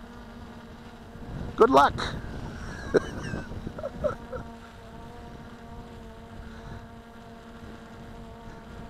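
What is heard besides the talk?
Hubsan X4 Pro H109S quadcopter flying in breeze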